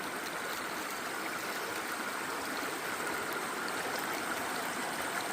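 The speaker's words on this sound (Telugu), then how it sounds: "నీళ్లు ఫ్లో అవుతున్నాయి మామ ఇక్కడ." Water flowing in a small stream where fish swim, a faint, continuous rushing and trickling hiss heard steadily from start to finish with no voices.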